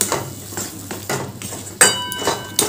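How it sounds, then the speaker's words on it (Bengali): A spoon stirs cumin, turmeric and sugar with yardlong beans in a pan, producing repeated scraping and clinking strokes against the metal, a few sharper knocks toward the end, close and without talk. "এবার সব উপকরণ একসাথে ভালো করে মেশাতে হবে।"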